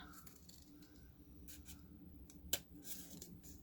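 Scissors cut ribbon into fringe for a spirit week hat. Several faint, close snips sound in a quiet room, with one sharper cut standing out near the end.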